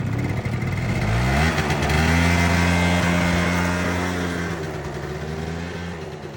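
A small scooter engine revs up close by, its pitch climbing steadily as it accelerates, then easing and fading slightly toward the end.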